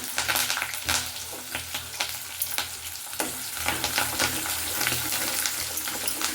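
Onion and curry leaves with a little chana dal sizzle and crackle in hot oil for idli sambar, with a steady close frying hiss, occasional stirring scrapes and sharp pops throughout.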